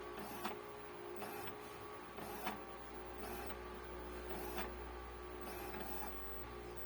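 An Epson L565 inkjet printer prints a test page, its steady mechanical hum broken by repeated whirring passes of the print head at roughly regular intervals.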